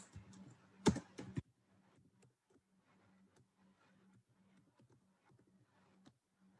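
Someone types Oracle cursor code on a computer keyboard, with a quick cluster of loud keystrokes at first, then sparse, faint, irregular key taps in a quiet room.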